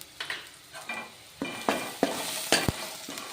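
Horse gram stirred in hot oil with turmeric powder, a steady sizzle broken by several sharp scrapes and clinks of a spoon against the pan, close and moderately loud, with no talking.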